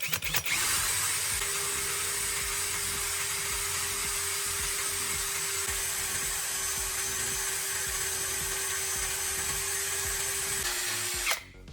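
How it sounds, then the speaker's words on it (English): A power drill whirs at a steady high pitch for several seconds, spinning a graphite core to sharpen its tip, running continuously, then cuts off abruptly at the end. "With the drill running again, I used it to sharpen the tip of the graphite core."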